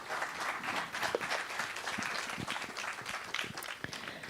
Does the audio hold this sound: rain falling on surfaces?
no